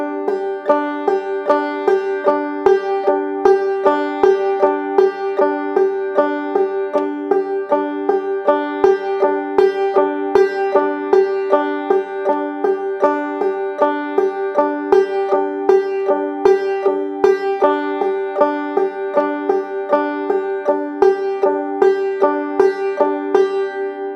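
Banjo playing a steady clawhammer pattern of double thumb strikes and then strokes accenting the fifth string, bright plucked notes in an even, repeating rhythm, close and clear with no talking.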